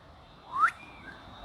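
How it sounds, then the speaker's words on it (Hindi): A single short rising whistle from students in a classroom, moderately loud against a quiet background. "यहां सीटियां बज रही है बच्चों"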